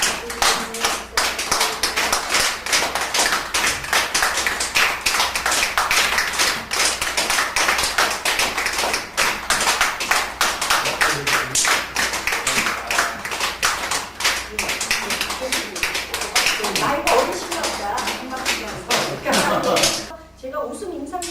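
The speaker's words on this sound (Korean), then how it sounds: "우리도 한번 자기 나이만큼 한번 박수를 한번 쳐볼까요?" A group in a laughter therapy session claps their hands in a long, fast, steady run of dense claps that stays loud throughout, then breaks off near the end as voices come in.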